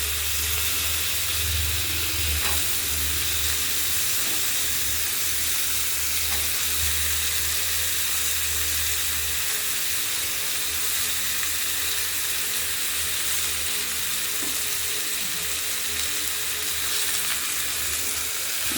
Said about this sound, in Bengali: উচ্ছে দিয়ে কুমড়ো দিয়ে কয়েকটা ঢেঁড়স ওর মধ্যে দিয়ে দিলাম